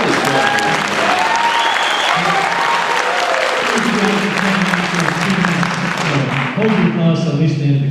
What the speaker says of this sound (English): Hold your applause till at least the end of the comments.